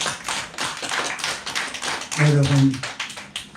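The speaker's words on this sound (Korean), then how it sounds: "주님 앞에 박수 한번 해보세요." A church congregation claps during a sermon, producing a run of sharp, quick hand claps with a preacher's voice speaking over them.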